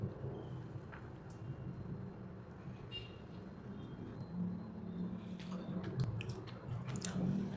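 Soft, moist, chewy bread dough being chewed close up, a steady run of faint squishy bites and mastication over a low background hum, with no one speaking.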